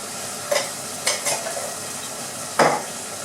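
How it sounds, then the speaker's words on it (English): A tin of mixed beans gets stirred in a pan with garlic, salt and pepper for a vegetarian chilli, a soft steady sizzle broken by three or four sharp scrapes and clinks of a utensil against the pan. "Give them a little bit of a stir. Get the garlic, salt and pepper on them beans."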